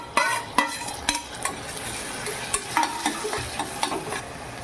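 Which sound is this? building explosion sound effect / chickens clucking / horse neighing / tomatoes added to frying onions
tomatoes added to frying onions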